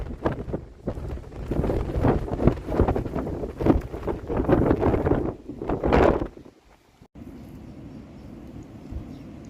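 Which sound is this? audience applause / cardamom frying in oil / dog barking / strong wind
strong wind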